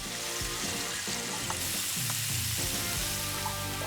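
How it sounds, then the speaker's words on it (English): A Korean-inspired mix of onion, pepper, potato starch and flour fries in a restaurant kitchen, giving a loud, dense, continuous sizzle with busy kitchen clatter and low rumbles underneath. "And these are gonna get fried up? Sauteed,"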